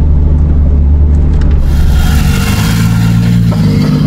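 Car engine revving hard under load with wheelspin as it launches, a loud, close, steady roar that shifts pitch partway through, no voices.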